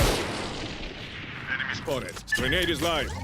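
Gunfire cracks in a ranked match of the video game Valorant, with sharp shots near the start over a busy game background. A commentator talks excitedly over the shooting.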